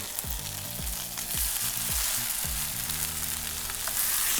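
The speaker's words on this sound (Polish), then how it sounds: "Gdy kotlety będą się smażyły" Mini burger patties sizzle in a dry, hot pan with no fat, giving a steady, close frying crackle. A few low knocks and shuffles of the pan or utensil are heard, and there is no talking.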